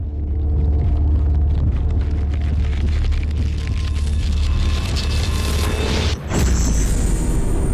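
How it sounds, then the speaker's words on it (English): A flashbang grenade in a video game goes off with a heavy, sustained booming rumble that fills several seconds, then cuts briefly before a bright ringing hiss takes over. "And here comes the flashbang."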